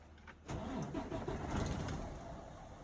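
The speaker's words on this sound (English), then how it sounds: "Starting my engine now." A truck engine cranks and catches during an air brake test in Sacramento, rising into a loud, rough idle close by after a brief quiet start.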